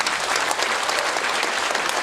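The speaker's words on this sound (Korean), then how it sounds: "뜨거운 격려의 박수 한번 보내주십시오" A crowd at a book launch event claps loudly and continuously, a dense, even wash of applause from many hands with no voices standing out.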